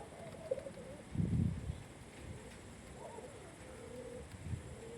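Soft, low pigeon coos repeat a few times over a faint steady hum, quiet and close by.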